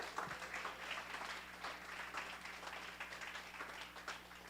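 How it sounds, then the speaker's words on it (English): Audience applauding a speaker at a live-streamed community event, a quiet, distant patter of clapping over a low steady hum. "Let's get another round of applause for Ms."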